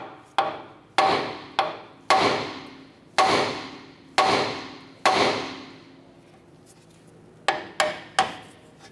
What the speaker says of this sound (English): Now I'm going to go ahead and use a hammer. We're going to strike the knuckle here to go ahead and release our tie rod.